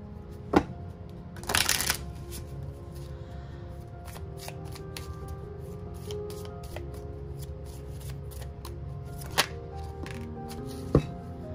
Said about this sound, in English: I'm going to pull you a card from the Celtic Tree Circle.